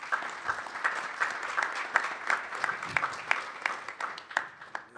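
An audience claps steadily and evenly throughout at the launch event of an urban business entrepreneurship centre, with dense, moderately loud applause.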